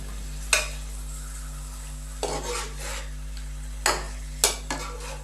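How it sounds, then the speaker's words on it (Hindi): Chicken browning for Kabuli pulao is stirred in a pot, with a few sharp scrapes and knocks of the utensil over a soft sizzle and a steady low electrical hum; no one speaks. "अच्छे से हम चिकन को मिक्स करेंगे और 5 से 7 मिनट के लिए मैं चिकन की अच्छी तरह से भुनाई कर लूँगा यहाँ पे"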